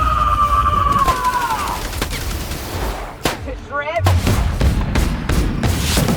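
Gunfire from the sci-fi video game The Outer Worlds, loud rapid bursts and booms in a dense battle mix with music and effects, continuing across the whole stretch.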